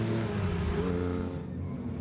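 A race car's engine, worked hard during a circuit race at Mallory Park, gives a loud, steady, droning roar with strong tonal harmonics and no talking.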